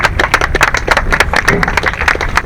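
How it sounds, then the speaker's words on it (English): Small audience clapping together in a burst of applause, a dense patter of individual hand claps, fairly close and loud, lasting a couple of seconds. "let us give you a round of applause"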